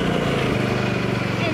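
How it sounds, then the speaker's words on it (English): Cub Cadet riding mower engine running, a loud steady chugging drone with rhythmic low pulsing, close and continuous for the whole stretch. "Turn the mower on."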